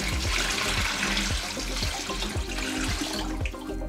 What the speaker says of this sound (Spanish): en un recipiente grande vamos a poner cantidad suficiente de agua para cubrir la calabaza